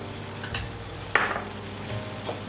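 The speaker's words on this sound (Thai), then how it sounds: "คลุกเคล้าให้เข้ากันครับผม แล้วก็ลวนไปเรื่อยๆ เลยนะคะ" Pork stir-fry with seasoning being tossed in a pan, with a few sharp clinks of a utensil against the metal over a low, steady background of cooking.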